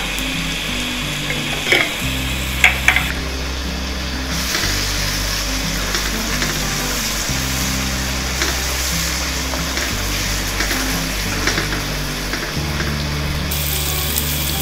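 Mutton karahi masala frying in a pan with meat stock, a loud sustained sizzle under steady mechanical ratcheting stir noises and a few clanks early on, no talk.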